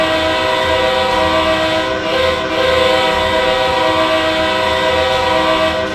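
TGV and Acela Express trains in a video game, running on a huge loop toward each other: a steady, loud rolling rumble with sustained horn-like tones held throughout, no talk over it.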